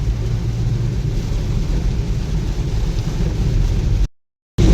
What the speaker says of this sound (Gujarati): અત્યારે વરસાદ ફૂલ ચાલુ થઈ ગયો પાછો